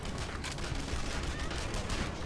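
Gunfire in the video game Red Faction Guerrilla rattles in dense, continuous bursts of loud shots throughout the clip.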